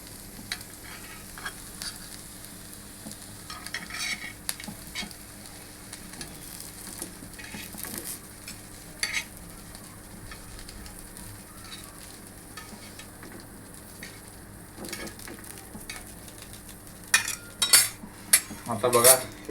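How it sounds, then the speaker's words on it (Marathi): Potato slices fry in oil in a pan and are turned over one at a time, with a low steady sizzle under scattered clinks and scrapes of a utensil against the pan, getting busier toward the end. "आता ह्याला एक एक करून हळूहळू पलटतोय मी."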